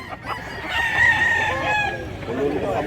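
Tall, large rooster crowing once in a long drawn-out call at close range, with faint background noise from a rural Cebu setting.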